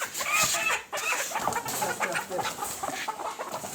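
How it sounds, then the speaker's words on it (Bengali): Chickens cluck and squawk close by as they are put into an H-type layer cage with eight birds per box, with constant overlapping calls and a brief dip in the middle. "এখানে দেখতে পাচ্ছেন আমাদের এই টাইপ খাঁচার মুরগিগুলো প্রবেশ করানো হচ্ছে"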